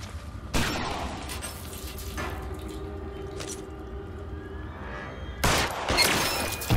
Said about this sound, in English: No! Oh, wow, he shot off my hat.